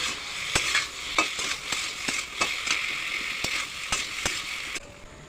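Brinjal sizzles in a pan while a spatula stirs it, giving a steady frying hiss with regular sharp scraping clicks against the metal.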